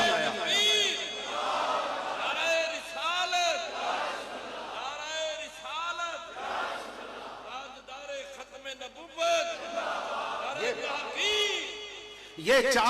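A crowd at an Urs gathering answers a Naara-e-Takbeer chant with loud, massed shouts that rise and fall in waves several times, with a final burst at the end.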